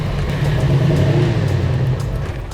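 Crown Victoria drift car with a newly fitted engine idling roughly: a steady, loud low rumble with an uneven, wavering tone and no voices.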